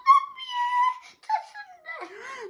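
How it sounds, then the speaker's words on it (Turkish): A dog whimpers close by with high, wavering whines and short yips in quick succession, loud and clear with no other sound around it. "Havlayıp havlayıp duruyorsun canım."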